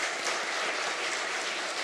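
A church congregation claps together in a large sanctuary with a balcony, a soft, even wash of applause that holds steady without voices.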